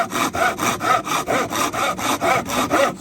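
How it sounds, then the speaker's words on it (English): A hand saw cuts through wood while building DIY acoustic panels for a home studio, with about eleven even, rhythmic back-and-forth rasping strokes, close and loud with no talk. "let all the weight of the tool do the beginning of the sawing"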